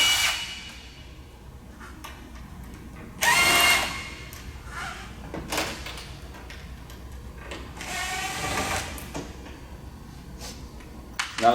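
A power drill runs in short separate bursts while backing three screws out of the end cap on an 18V power awning, with quieter handling noises and clicks between the bursts.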